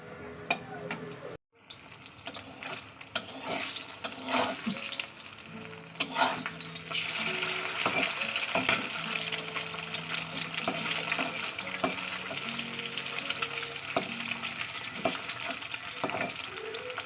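An egg frying in a pan, a steady hissing sizzle that fills the clip after a brief pause near the start, with occasional spatula clicks.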